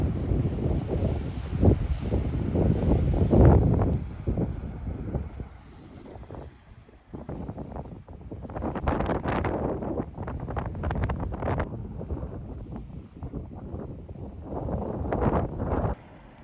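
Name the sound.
strong wind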